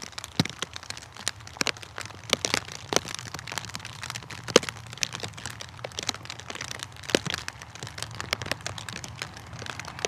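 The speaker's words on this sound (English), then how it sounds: "It's a passing shower though." A passing rain shower at Bristol Airport falls in scattered, crackling patters of drops, many striking close to a covered microphone, fairly faint over a low background rumble, with no talk.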